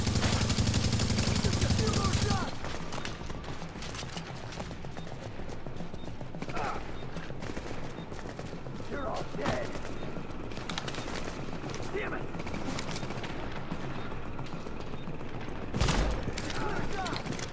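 Gunfire in the shooter game Tom Clancy's The Division comes as scattered bursts and single cracks after a loud opening volley. The shots are spaced irregularly over a busy, steady background of combat noise.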